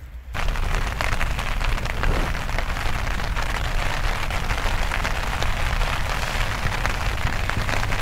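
Steady rain falls outside a tent while hiking the Schleswig-Holstein trail, a dense continuous patter and hiss heard close and loud for eight seconds, with no voices.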